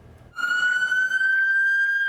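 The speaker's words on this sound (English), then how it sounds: "The sound of sirens no longer coming to a sudden stop" A siren from an emergency vehicle, likely an ambulance, wails in, holding a loud, rising electronic tone after a brief quiet start.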